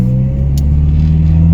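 Honda EP3 with a muffler delete, its exhaust holding a steady, loud, low droning rumble close up, with no talk.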